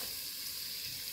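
Onions sautéing with garlic and ginger in a pan give a steady, soft, close sizzle, continuous and without talk.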